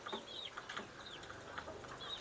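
Kampung chickens cluck in a small backyard coop amid houses, soft repeated clucks and short calls, faint and close, with no talking.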